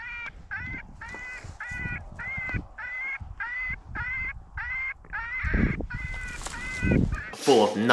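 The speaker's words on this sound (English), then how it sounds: "full of nothing besides geese flying around." A flock of geese honks repeatedly while flying overhead, steady rhythmic calls close and loud, with a few louder overlapping honks near the end; no talk, recorded outdoors during a coyote hunt.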